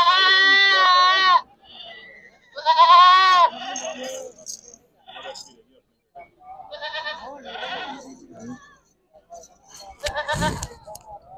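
Goats bleat loudly at a goat market and fair where Beetal goats are shown: two long, wavering bleats close by, then scattered animal calls and people talking in the background.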